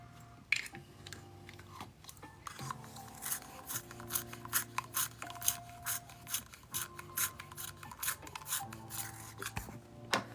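A coloring pencil is sharpened by hand, giving a steady run of fine, close scraping and grinding strokes under faint background music.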